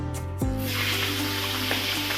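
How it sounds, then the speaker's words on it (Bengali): Prawns drop into hot oil in a wok on a gas stove, setting off a continuous close sizzle and hiss that holds steady throughout. "তেলটাও ভালো করে গরম হয়ে গেছে এবারে চিংড়ি মাছগুলো আমরা দিয়ে দেবো"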